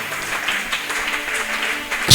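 A church congregation claps continuously in a dense, steady wash of applause that swells slightly at the end.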